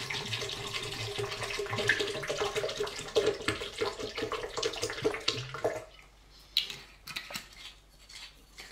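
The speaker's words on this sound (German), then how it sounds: "Das Ganze gieße ich dann auf einen halben Liter mit schönem frischem Wasser." Half a litre of fresh spring water pours into a blender as a steady splashing rush for about six seconds, then gives way to a quieter stretch with a few small clinks.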